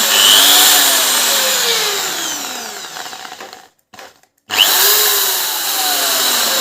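Electric home drilling machine running fast with no shake, a loud steady whine with rising and falling pitch sweeps, briefly cutting out near the middle before spinning back up.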